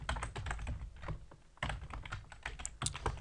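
Quick bursts of typing on a computer keyboard while writing Arduino code, with close, crisp key clicks in fast uneven runs and a short pause midway.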